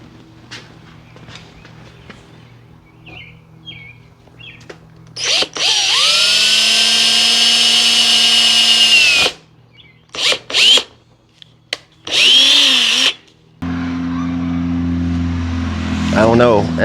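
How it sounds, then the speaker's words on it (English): Power drill boring holes for pop rivets into a factory-tacked part, loud sustained whine in several bursts of varying length, with handling noise between them. "We're going to drill and pot rivet this thing in."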